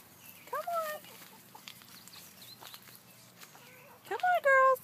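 Chickens clucking and squawking nearby in a couple of bursts, the louder calls near the end, with faint background noise between.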